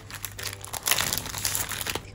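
Paper-wrapped packaging of new dollar-store goods being handled, producing close, busy crinkling and rustling in quick irregular bursts with no talking.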